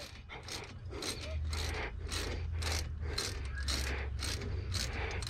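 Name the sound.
hand ratchet clicking while working on an engine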